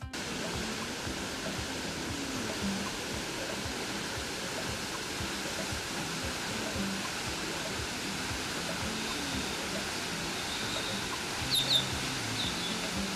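Sipi Falls on Mount Elgon, an 85-meter waterfall, roars as a steady, dense wash of falling water, with faint bird calls over it.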